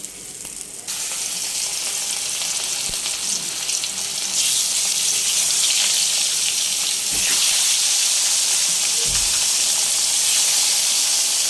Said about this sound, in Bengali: এই যে হয়ে যাচ্ছে মাছের তেল দিয়ে মাছ ভাজা।